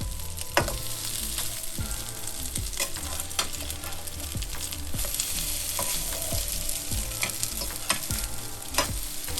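Salmon croquettes sizzle steadily in a frying pan after being flipped, a dense continuous hiss broken by occasional soft scraping or tapping sounds, close and even throughout with no voices.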